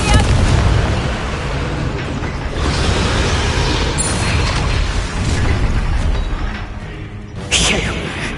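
Fiery spell blasts from the Confringo curse in Hogwarts Legacy, a dense rumbling explosive roar sustained throughout, with a sharper burst near the end, loud and close.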